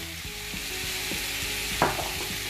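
Food seasoned with paprika, garlic and pepper stirred in a hot pan: steady close sizzling with repeated soft scraping strokes of a utensil and one brief louder clack.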